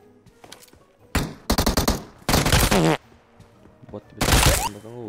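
Automatic gunfire in the PUBG video game, several loud, rapid bursts of shots separated by short gaps, close and sharp, with a voice speaking quietly in between.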